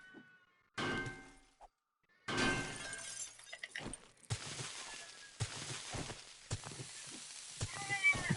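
Cat meowing in the PS4 survival game 7 Days to Die, several short faint calls scattered among bursts of clatter and shattering sounds, with gaps of near silence between them.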